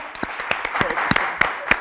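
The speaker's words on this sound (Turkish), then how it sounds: "Bir alkış verelim önce Fatma Hanım'a." Brief scattered claps from a small quiz-show audience applauding a winning contestant, a handful of sharp hand claps spread unevenly and fairly close.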